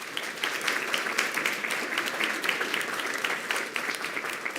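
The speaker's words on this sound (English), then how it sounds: "How about we give them a round of applause?" A school board meeting audience applauds for Weslaco East High School students, a dense, steady clapping that fills the room throughout without pause.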